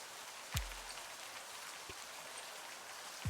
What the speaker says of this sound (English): The raindrops fall on the paper, landing with soft patters.